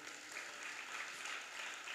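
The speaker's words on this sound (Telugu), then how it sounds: "చప్పట్లు కొడదామా?" A congregation applauding during a church sermon, a dense, even patter of many hands clapping at once, fairly faint and distant, sustained without pause.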